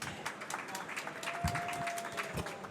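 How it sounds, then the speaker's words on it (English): Audience applause for speakers coming up at a conference session: a steady wash of many hands clapping in a hall, moderately loud, with a faint steady tone running through and a couple of low thumps. "We keep a big round of applause going here."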